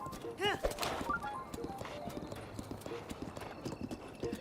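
Horse hooves clip-clop in the Zelda Breath of the Wild video game at a steady galloping rhythm, with a short whinny early on and the beat continuing throughout at a moderate level.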